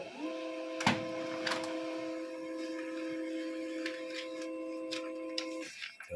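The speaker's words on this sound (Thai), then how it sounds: "โอเคนะครับงานปริ้นก็ออกมาเป็นที่เรียบร้อยแล้วนะครับ" An HP Laser MFP 135w laser printer prints a page with a steady, close-up mechanical hum and a few sharp clicks and rattles, then stops near the end.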